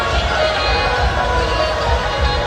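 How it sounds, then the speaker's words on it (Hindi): A heavy crowd of Kanwar pilgrims gathers at Shiv Chowk in Muzaffarnagar, a dense, continuous murmur of many voices with low rumbling and scattered movement, loud and close. "शिव चौक में आज मुजफ्फरनगर में भारी भीड़ है"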